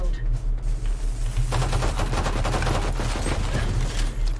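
Rapid automatic gunfire in the video game Valorant, a dense stream of shots that starts about a second and a half in and keeps going to the end, loud against a steady low game hum.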